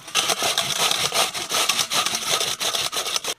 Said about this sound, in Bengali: এই কচুগুলো এবারে স্ট্যান্ডারে ঘষে নেব